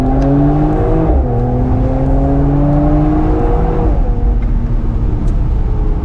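Mercedes-AMG E53 Cabriolet 4Matic engine in sport mode blipping and revving on a downshift, a loud, close, sustained engine note that rises in pitch, then drops back with no talk over it.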